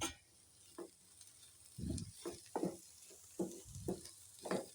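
A spoon stirs chili flakes and salt into a vegetable momo filling in a pan, with a series of soft scraping strokes at an irregular rhythm over a faint sizzle, quiet and close.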